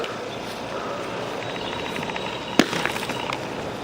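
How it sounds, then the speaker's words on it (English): A handmade hailstone, thrown up outdoors, comes down with a single sharp, loud thump midway through, followed by brief rattling, over a steady background hiss. "that was a pretty loud thump"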